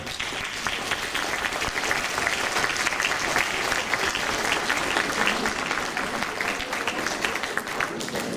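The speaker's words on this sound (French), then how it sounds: "je vais vous demander d'applaudir maintenant notre jeune chanteuse Elsa" Spectators at a community choir celebration in Levroux, France applaud a young girl singer, a steady, fairly loud crowd clapping that stays dense and even throughout.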